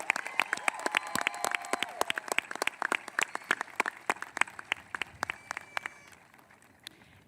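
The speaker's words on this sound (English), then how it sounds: "Please give them an additional round of applause." A graduation ceremony audience applauds a concert band: scattered, uneven hand claps from a moderately sized crowd, individual claps standing out at a middling distance, thinning toward the end.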